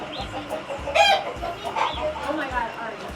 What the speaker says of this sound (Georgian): ეს წიწილები. ტიპის ქათმებია ნახე.